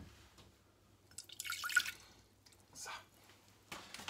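Apple cider vinegar, about 75 ml, splashes into a pot on a stove in short bursts, a few brief close pours separated by quiet gaps.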